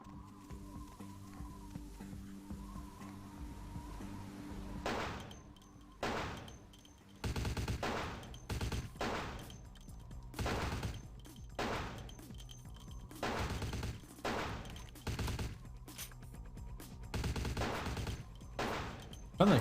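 Gunfire in Vampire: The Masquerade - Bloodlines on PC, a string of sharp separate shots in irregular bursts after a quieter stretch with low background hum, fairly loud and close.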